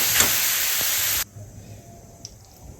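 Grated carrots frying in ghee in a pan give a loud, dense sizzling hiss that cuts off abruptly after about a second, leaving near silence with a faint click.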